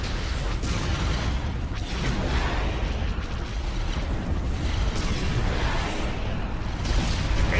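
Space battle in Star Wars: Empire at War: Forces of Corruption, with dense overlapping explosions and cannon booms that rumble continuously and loudly, punctuated by sharper bursts and blasts packed tightly together.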